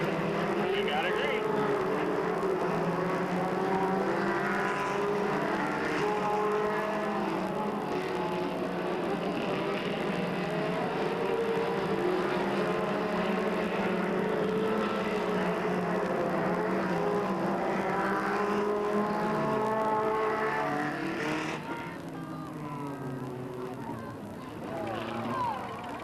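Stock race cars roar continuously around the oval at Delta Speedway, a steady loud engine drone under excited commentary, including a lead battle between the 10 car and the 61 car.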